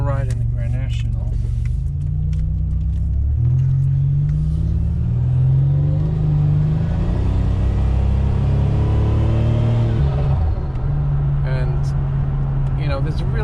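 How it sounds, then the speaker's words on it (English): A slightly modified Buick Grand National with a non-original turbo drives along, its engine a steady loud low rumble from inside the cabin, rising slightly as it accelerates, with people talking over it. "Now we're taking a ride in the Grand National."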